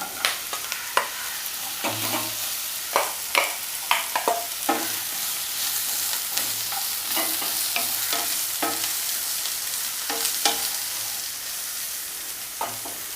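Ridge gourd frying in oil in a pan makes a constant sizzle, broken by repeated sharp stirring and scraping clacks that come irregularly through the whole stretch, near and alone without speech.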